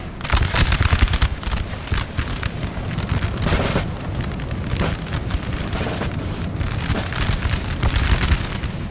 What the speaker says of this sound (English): I was wondering when this line unit was going to fire.